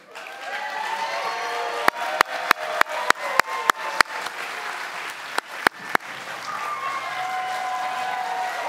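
Applause and cheering swell from a crowd honoring a graduating class at a graduation ceremony, broken by a run of sharp, close, rhythmic claps near the middle before the broad clapping resumes.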